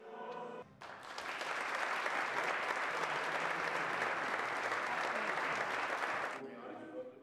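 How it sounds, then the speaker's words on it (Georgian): Sustained applause from parliament deputies greeting the end of the EU anthem at the Georgian parliament's final session of the year, a dense, even clapping that swells in quickly, holds steady for several seconds, then cuts off. "ჰიმნის დასასრულს აპლოდისმენტებით შეხვდნენ"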